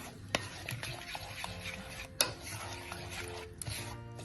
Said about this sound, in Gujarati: હવે આપણે આ રીતે બરાબર મિક્સ કરી લઈશું